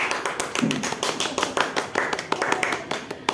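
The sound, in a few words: group clapping hands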